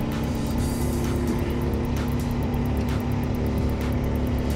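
A Porsche 962 Le Mans-winning race car engine idles with a steady, loud low rumble and a faint periodic pulse, close by and continuous, with no talking over it.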